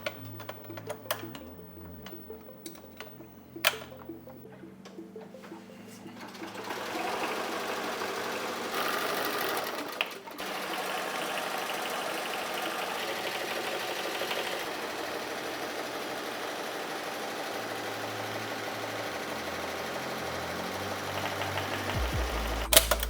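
An embroidery machine stitches a design into black foam, its needle running in a steady fast mechanical chatter with a few louder clicks and shifts in pace, fairly close and without talk.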